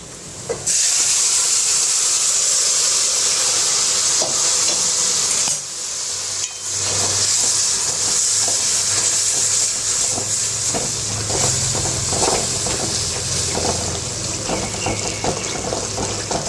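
Fried onions with turmeric being stirred in a pan for an amaranth-leaf vegetable dish give off a steady hissing, steamy sizzle with soft scraping stirs, close and constant, dipping briefly midway.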